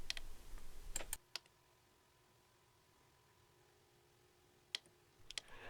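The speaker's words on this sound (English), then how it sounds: "after some quick typing" Keys clack on a homemade tactile keyboard built for a Sinclair ZX81, with a quick flurry of presses at the start, a long quiet pause, then a few more sharp clicks near the end.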